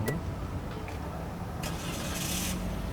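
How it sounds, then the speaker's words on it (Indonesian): A car's engine cranks and catches during an operational vehicle inspection, a short starter burst settling into a steady idle rumble close by. "untuk bagian setir ini kita nyalakan dulu mobil mesinnya"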